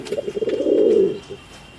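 Lakkha satin fancy pigeons give a single close, rolling coo that swells and then fades, followed by a short quieter murmur.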